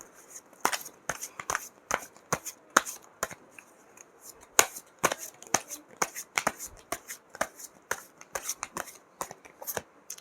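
Tarot cards being shuffled and drawn, with a steady run of crisp, close card slaps and flicks in an irregular rhythm at a quiet level, with no voice over them.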